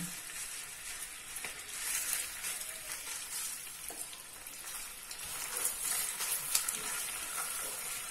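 Continuous crackling sizzle of curry paste stir-frying in a hot pan, with occasional scraping and stirring noises, close up and without talk.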